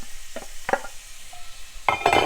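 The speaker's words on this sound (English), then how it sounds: "and your mushrooms to the skillet. And we're going to saute this over medium-high heat for about 3 to 4 minutes." Onion and mushrooms sauté over medium-high heat in a skillet with olive oil and coconut oil or butter: a few short spatula scrapes and a soft sizzle, close and quiet.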